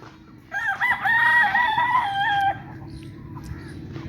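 A rooster crows once, a long loud cock-a-doodle-doo lasting about two seconds, over steady low background noise.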